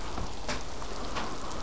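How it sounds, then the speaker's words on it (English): Steady hiss of rain pattering on a surface indoors in the video game Miasmata, continuous and fairly close, with a few slightly louder drops standing out. "it's just raining in here"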